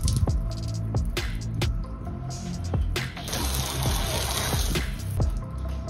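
Water splashed and poured over the exterior of a converted camper van to rinse it, irregular bursts of splashing and running water with a few sharp knocks, fairly close and without speech.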